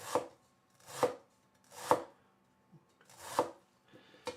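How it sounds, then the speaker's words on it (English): A knife shaves small bits off a piece of ginger, four or five distinct close chopping strokes at an even, unhurried pace, with quiet gaps between. "We'll just shave off some little bits here."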